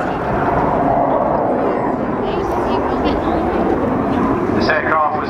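A Hawker Hunter jet roars through an air display flypast at RNAS Yeovilton Air Day, a steady broad engine rush heard from a distance beneath continuous commentary from a man.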